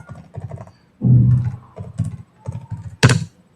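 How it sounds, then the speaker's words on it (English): Typing on a computer keyboard in a chat window, a close run of uneven clicking keystrokes in short bursts with a few heavier thumps and a sharp final key strike. "Even I'm also typing on the chat window."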